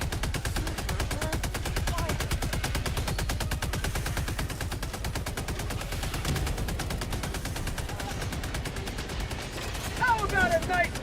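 Sustained rapid gunfire and fusillade from a shooter video game, dense overlapping bursts running throughout at steady loudness, with a brighter burst near the end; voices sound faintly in the background.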